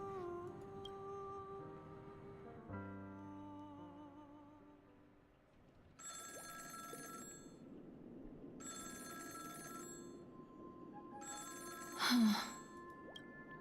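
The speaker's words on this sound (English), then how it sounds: "Answer the phone." Telephone ringing in the video game Honkai: Star Rail: a synthesized ringtone in repeated bursts of about a second and a half, spaced evenly, over soft game music, with a brief louder chime near the end.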